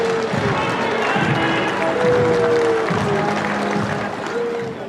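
Crowds lining the streets for Margaret Thatcher's funeral procession in London clap and jeer in a loud, continuous wash, with booing mixed into steady applause and chatter.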